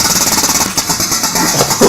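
An M249 machine gun fires in sustained rapid bursts, a loud, steady mechanical rattle that runs almost unbroken.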